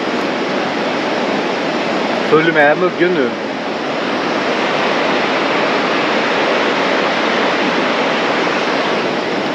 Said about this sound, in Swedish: Ja, ett vattenfall.